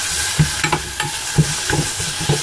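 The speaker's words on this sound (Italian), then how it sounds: "Adesso li dobbiamo fare rosolare bene, quasi tostare in questo senso." Ingredients browning and toasting in a pan for a monkfish pasta sauce, a bright continuous sizzle broken by repeated scraping stir strokes, close and fairly loud with no voices.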